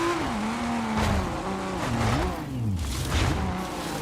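An EA WRC rally car's engine revs hard in the PlayStation 5 game, pitch climbing and dropping through several quick gear changes, loud and continuous with tire noise beneath.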